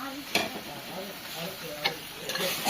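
Chicken pakodi frying in hot oil, a soft steady sizzle with a few sharp clicks and stirring taps, close and fairly quiet.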